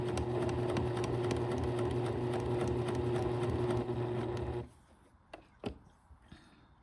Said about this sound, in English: gently step on the presser foot to start sewing